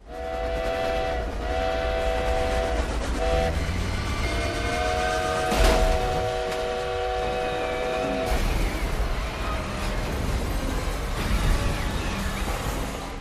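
A model train in a crash scene from the film The Fabelmans rumbles along loudly with long whistle tones, a sharp burst near the middle, and continued rolling noise afterward.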